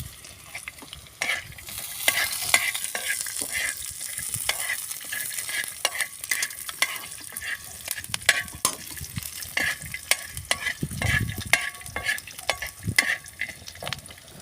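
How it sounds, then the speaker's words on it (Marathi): Coriander seeds and peanuts dry-roasting on a tava over a clay stove for stuffed capsicum masala, stirred steadily with repeated scraping clicks over a soft sizzle, close and moderately loud, with no talking. "धने पण टाकून घेऊया धने पण टाकून घेतला आहे"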